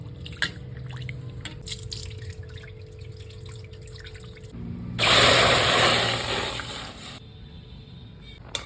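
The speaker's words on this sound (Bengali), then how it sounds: "এখন ধুয়ে নেব, ভালো করে ডলে ধুয়ে নেব" Fried fish pieces rubbed and washed by hand in a bowl of water, with soft drips and sloshing, then a louder burst of running water from a tap for about two seconds, close and fairly quiet.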